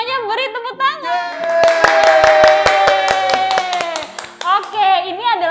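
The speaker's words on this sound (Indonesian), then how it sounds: "Ayo semuanya beri tepuk tangan." An audience in a studio claps together in a steady patter to welcome a guest, clear and close for a few seconds, with a voice and other talk before and after.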